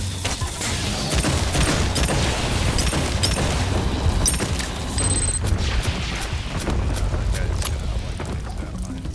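Sentry turret firing in the sci-fi shooter Aliens Fireteam: rapid bursts of automatic gunfire and booming impacts crackle continuously amid a dense combat din, with a voice speaking over it.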